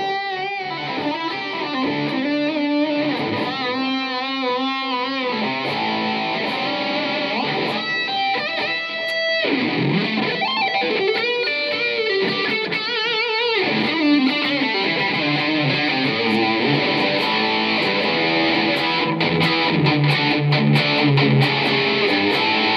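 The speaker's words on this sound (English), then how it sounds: "So we're listening to a Plexi with all the controls turned up into a 4x12, but also with a Marshall Guv'nor distortion pedal in the front of it." An electric guitar plays through a Marshall Code 50 amp on a Plexi preset with every control turned up, into a 4x12 cabinet and fronted by a Marshall Guv'nor distortion pedal. It gives loud, saturated riffs and sustained chords, alone and unbroken.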